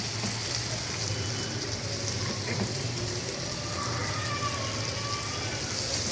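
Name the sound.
garlic and shrimp frying in butter and oil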